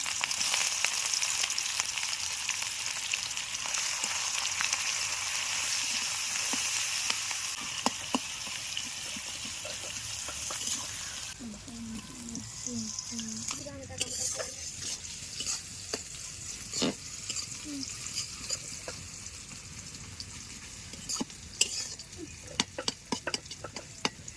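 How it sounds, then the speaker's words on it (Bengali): Chopped onions fry in hot oil with whole spices and bay leaves, starting as a loud, dense sizzle that eases to a softer crackle broken by frequent close scrapes and taps as the onions are stirred. "এই তেলের ভিতরে দিয়ে দিচ্ছি পেঁয়াজ কুচি"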